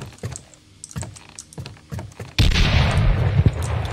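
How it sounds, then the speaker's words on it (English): Gunfire in the zombie survival game Quarantine Z, sparse sharp clicks and shots at first, then a sudden loud burst of sustained shooting and blasts filling the second half. "Oh, I'm listening to the shooting."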